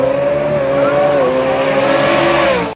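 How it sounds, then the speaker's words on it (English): Two 2024 Ford F-150 pickup trucks accelerate down a drag strip together, a loud, sustained engine drone with a pitch dip at a gear shift, cutting off abruptly at the end. "It's like 2 trucks going down the track, harmonizing basically with the shift schedule."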